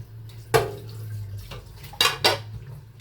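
Vegetables are washed in water, with a few sharp clanks of a bowl or pot against a sink and soft splashing over a faint steady hum, close by and without speech.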